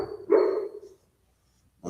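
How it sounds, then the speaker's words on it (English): A dog barks softly in its sleep, one muffled, low woof close by, then silence before another faint sound starts. "My dog is barking in his sleep"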